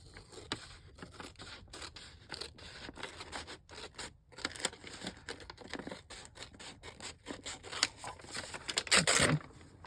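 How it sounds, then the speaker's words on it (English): Scissors snip through folded paper in a run of quick, crisp, closely spaced cuts, near and fairly quiet, with a louder rustle of paper at the end and no talking. "And just use my scissors."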